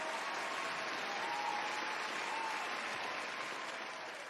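A studio audience applauds a guest being welcomed on a year-in-review episode, giving a continuous wash of clapping at fairly low level that tapers slightly toward the end.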